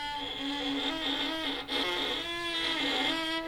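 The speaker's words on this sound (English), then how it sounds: "get this shrinky-dink, tiny little scratchy sound." A violin bowed lightly, giving a thin, scratchy sustained tone with a rough edge, steady and close, with a brief break partway through.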